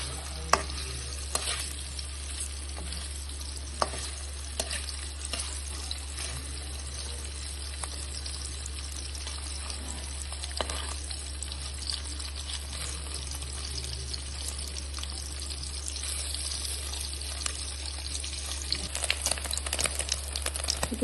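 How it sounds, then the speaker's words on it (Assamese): Paneer stir-fries in a karahi until browned, giving a steady soft sizzle with faint scraping and stirring clicks over a constant low hum, with no voices. "মই ইয়াতে পনীৰখিনি অকণমান লৰাই ল'ম ৰঙচুৱা হোৱালৈকে।"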